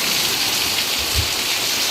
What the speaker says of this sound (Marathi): मस्त जोरदार पाऊस आलाय